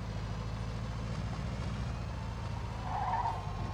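Cars in Mafia 2 roll up in a steady low engine rumble with a brief tire squeal near the end, heard at moderate distance and fairly quiet.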